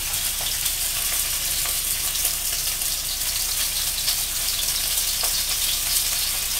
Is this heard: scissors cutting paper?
no